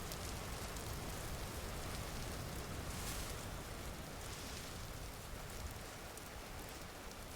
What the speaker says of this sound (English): At least we're out of the rain now.